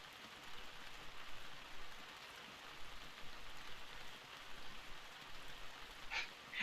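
Steady rain falls in the nighttime Hitman: Contracts game scene, a soft continuous hiss of drops that holds at an even, moderate level with no talk over it.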